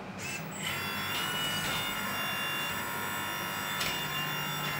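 Hydraulic cylinders raise the arm of a Huina K970 1/14 metal RC tracked excavator, giving a steady close-up whine with a faint high buzz and a few brief clicks throughout.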